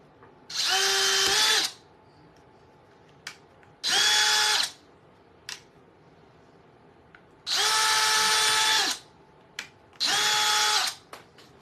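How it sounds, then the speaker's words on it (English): A small power drill whirs in four bursts of about one to two seconds each, separated by short pauses with faint clicks, close by and loud. "I just have my little drill"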